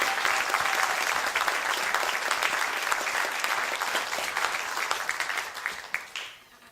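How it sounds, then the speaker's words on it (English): A city council candidates forum audience gives a round of applause, dense sustained clapping filling the room for several seconds before tapering off at the end, no voices over it. "how about a round of applause for these terrific candidates?"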